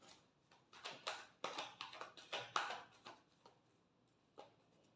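Tarot cards being shuffled by hand, a quiet run of soft riffling bursts in quick rhythm that fades into a few scattered taps.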